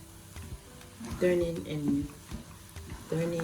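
Eba, a cassava dough, is turned and stirred in a pot while cooking, with soft scraping and thudding strokes that come in irregular bursts under a voice talking.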